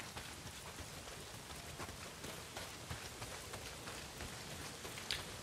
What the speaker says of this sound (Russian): Дождь хлещет.